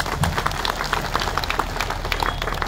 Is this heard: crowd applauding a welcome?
yes